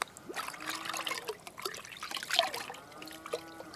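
EM microbial solution being stirred into about 20 liters of water, with close, soft trickling and sloshing, small splashes and drips coming in irregular bursts, fairly quiet and with no one talking.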